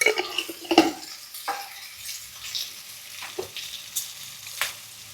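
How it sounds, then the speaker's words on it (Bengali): Spices sizzle with ground pepper in a pan for a Bengali rohu fish curry in mustard oil, a soft frying hiss broken by several sharp stirring scrapes and clinks, with no talk. "গোলমরিচের গুঁড়ো দিয়ে ভালো করে এটা কষানো হচ্ছে।"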